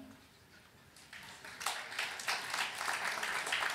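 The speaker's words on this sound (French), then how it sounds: "J'ai quand même réussi à faire applaudir un tiers de la salle sur les chatons" Part of a gala audience breaks into applause that starts faint and swells after a moment into a steady, slightly distant patter of many hands.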